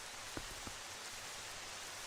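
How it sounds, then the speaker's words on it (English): Steady rain falling in the video game Zelda Twilight Princess HD, a constant broadband hiss with a couple of brief drop-like ticks, heard on its own without talk. "but it's raining, so that's not gonna work."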